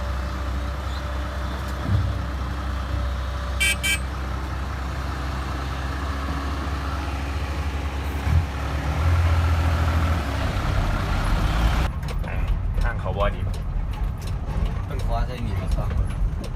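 A pickup truck engine idles and rumbles steadily for a long stretch, with people talking over it and a few clanks and shifts in the sound, including gear noise.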